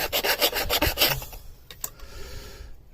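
A hand file sharpens a lawn mower blade in a quick series of rhythmic rasping strokes, close and fairly loud. The strokes give way to a few light scrapes and clicks before it falls quiet.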